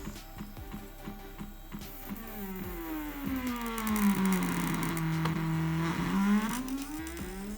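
A Nema 17 stepper motor driven by an Arduino whines with a pitched tone that sweeps downward then back up as its speed is changed, along with clicking and ticking from the mechanism, loud and close.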